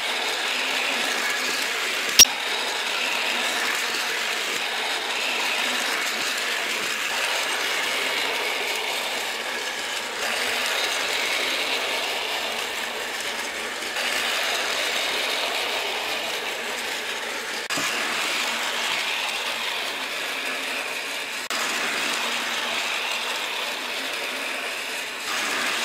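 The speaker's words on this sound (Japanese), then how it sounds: "少しね、鉄橋の角度を変えて走らせてみたいと思います。" Continuous whirring, ticking mechanical rattle of a small Daiso toy E351 Super Azusa train running across an angled bridge track, steady and moderately close, with one sharp click early on.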